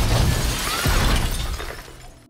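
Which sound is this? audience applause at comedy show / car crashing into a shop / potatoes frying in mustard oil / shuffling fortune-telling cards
car crashing into a shop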